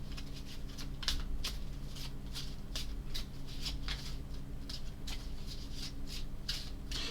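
A deck of skill cards for the Unbroken board game shuffled on a table, steady papery riffling and snapping in repeated quick bursts, close and continuous with low room hum beneath.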